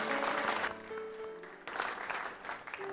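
A television talk show studio audience claps briefly, a dense burst of applause that dips midway and swells again, with a faint tonal hum underneath.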